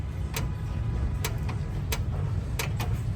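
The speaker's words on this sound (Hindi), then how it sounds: "यहाँ पे पूरा ही बर्बल ट्यून चल रहा है, देखो" A modified Suzuki Cultus idles with a burble exhaust tune, giving a steady low rumble broken by several sharp, irregular pops and crackles, close and fairly loud.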